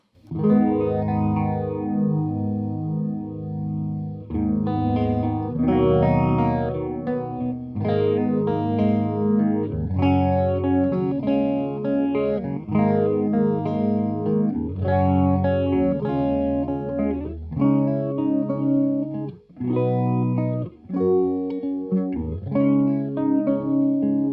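Electric guitar chords played through a Pastfx Jet Phaser pedal, a Roland AP-7 clone, the tone sweeping and swirling in slow waves, loud and continuous with a rich modulated shimmer.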